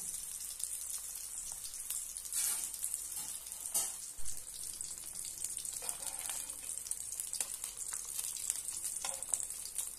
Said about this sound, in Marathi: छानपैकी आपण हे फ्राय करून घेऊया।